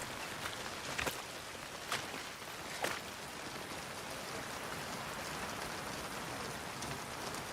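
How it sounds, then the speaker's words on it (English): Steady rain falls in the video game Ghost of Yotei, a dense, soft hiss of drops with a few brief louder splashes near the start, heard alone without speech. "Listen to that rain."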